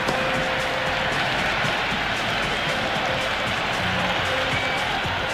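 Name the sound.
raucous cricket stadium crowd in Cricket 26 video game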